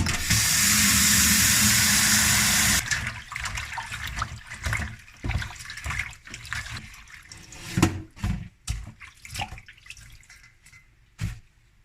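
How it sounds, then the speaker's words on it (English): Running water splashes steadily for a few seconds, then gives way to sloshing, dripping and handling noises as kawakawa leaves are rinsed and moved around in it. "first we have to wash it in cool water"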